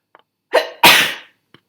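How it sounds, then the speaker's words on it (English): A single close sneeze: a quick sharp intake of breath, then an explosive burst that trails off, with quiet around it. "I'm going to sneeze."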